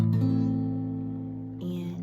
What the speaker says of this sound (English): A minor looks and sounds like this